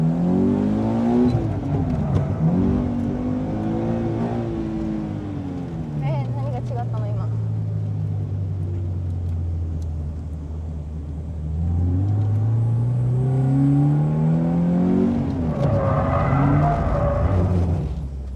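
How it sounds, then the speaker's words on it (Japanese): A Toyota 86 engine revs and surges through a power drift, rising and falling tones over a steady rumble, loud and close, while people talk throughout. "パワードリフトだな"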